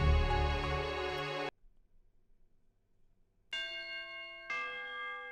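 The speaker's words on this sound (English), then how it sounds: "The bell rang." A school bell rings out in a clear tonal burst, falls silent for about two seconds, then sounds again in two further strikes with lingering ring, heard alone without talk.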